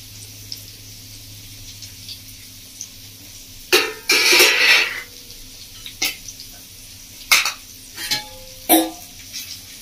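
Mint leaves, coriander leaves and ginger-garlic paste drop into mutton frying in a pan for a village-style curry with raw papaya, giving a few brief sizzling bursts and stirring clatter over a quiet background hiss.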